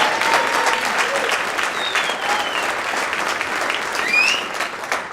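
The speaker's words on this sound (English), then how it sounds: "Let's give him that round of applause." A crowd at a Little Rock Touchdown Club meeting applauds steadily with dense, continuous clapping, a few whistles cutting through near the end.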